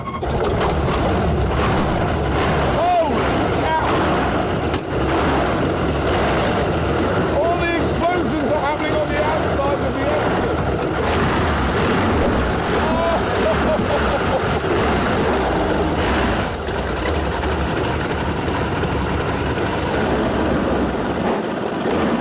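Brutus, a car powered by a BMW aero engine, is heard as a loud, continuous heavy engine rumble with low-frequency roar and rough mechanical clatter, while people talk over it throughout.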